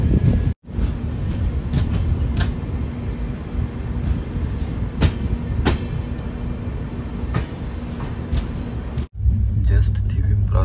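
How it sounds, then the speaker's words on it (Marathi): The Netravati Express rolls along the Konkan Railway, heard from inside the train as a steady, close rumble and rattle of wheels. The din briefly cuts out twice, and light clicks sound over it. "आणि आता आपण इकडे लागला आपल्या कोकण रेल्वेच्या रूटला."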